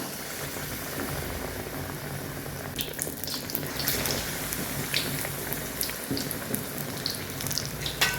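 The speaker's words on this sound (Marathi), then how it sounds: "आता आपण तळून घेऊया। इथं आपलं ऑइल गरम झालेलं आहे।" Bread patties frying in moderately hot oil, a dense, continuous crackling sizzle with scattered pops, close and steady throughout with no voices.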